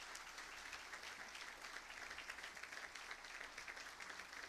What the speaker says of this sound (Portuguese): A igreja poderia dar uma salva de palmas